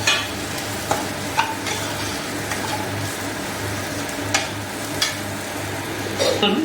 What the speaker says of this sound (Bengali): তারপর এগুলোকে নেড়ে চেড়ে একটু ভেজে নেব।